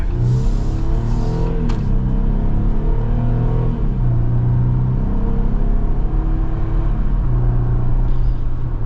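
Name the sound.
2025 Jeep Wrangler Rubicon Xtreme Recon accelerating hard off the line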